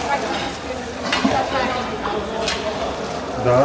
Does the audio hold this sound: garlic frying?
yes